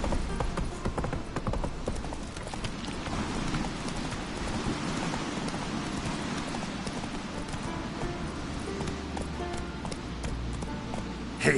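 Hooves of Roach, the horse in The Witcher 3, clop in a steady galloping rhythm through a rainy night, nearby and continuous under a wash of rain with faint thunder.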